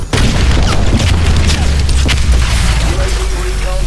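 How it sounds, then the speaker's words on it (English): Missile strike explosions in a Call of Duty match: loud, continuous booming blasts with rumbling low end, followed by a brief voice near the end. "Friendly missile strikes incoming."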